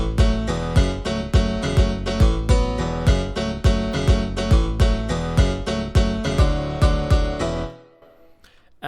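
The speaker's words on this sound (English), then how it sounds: "together with the bass and the piano, the kick drum sounds like this" EDM piano drop with a punchy kick drum thumping in a steady four-on-the-floor beat under bass and bright piano chords, loud and full for about seven seconds before fading out to near silence.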